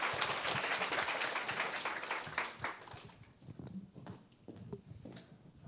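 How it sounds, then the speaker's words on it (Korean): Audience applause at a corporate job talk event, a burst of dense clapping that starts loud and full, then thins out and fades into scattered claps over several seconds. "박수 부탁드립니다."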